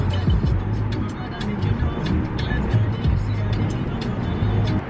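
A car drives along the highway toward San Francisco, giving a steady, close engine and road rumble inside the cabin with light intermittent ticks and no talk.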